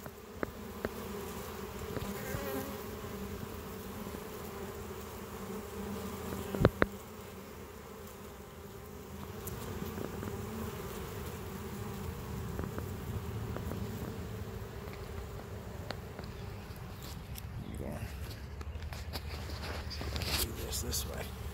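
Bees fly around a hive as they bring in pollen and nectar, a steady close buzzing drone with a few louder passes near the microphone, while a person talks quietly.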